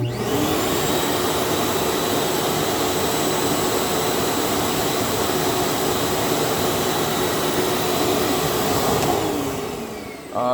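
A portable 500 psi Mosquito carpet extractor without heater runs continuously with a loud, steady vacuum-motor roar and high whine, then briefly dips as it winds down near the end.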